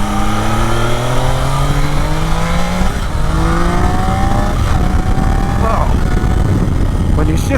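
Engine of a 2024 Triumph Daytona 660 motorcycle revving through its range on a demo ride, loud and continuous with rising and falling pitch sweeps and gear changes, heavy wind rumble, and a rider talking over it.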